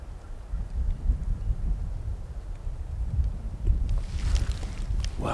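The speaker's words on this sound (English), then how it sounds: "that wind picked up, didn't it?" Wind gusts outdoors on public land in Mississippi, a steady low, buffeting rumble against the microphone with a brighter rustle rising near the end.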